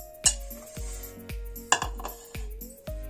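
A cooking pot is picked up and set down in a home kitchen while preparing moth dal chaat, giving several sharp metallic clanks and clinks spread across a few seconds, close and fairly loud, with no talking.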